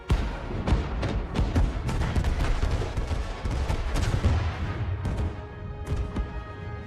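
Starship weapons fire in a Star Trek space battle involving the USS Resolute: a dense barrage of loud, booming blasts and rumbling impacts in rapid succession, tapering toward the end.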